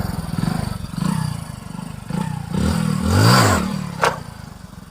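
A Hero Passion Pro motorcycle idles with a throbbing, uneven engine note, then revs up more loudly and drops back. A sharp clack follows as it is knocked into first gear, all close to the mic.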